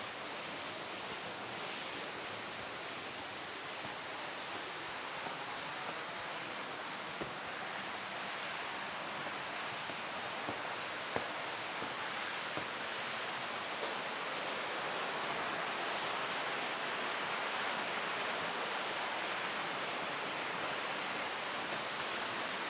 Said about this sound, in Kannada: ಬಂಡೆಯಲ್ಲಿ ಎಲ್ಲ ಕಡೆಯಿಂದ ನೀರು ಬೀಳ್ತಾ ಇದೆ